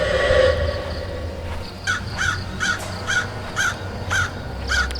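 A crow caws repeatedly on Mount Slamet at night, about seven harsh calls in a steady rhythm, fairly close, over a low background rumble.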